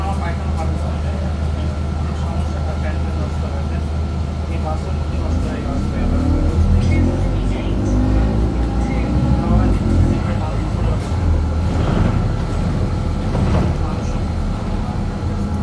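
A Scania Optic bus on route 238 rumbles steadily from inside, its engine drone and road noise continuous and loud, with a person talking over it throughout.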